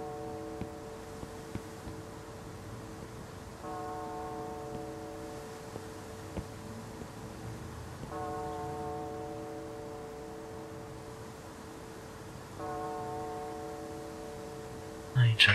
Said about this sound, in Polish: Dzwony biją, dzwony.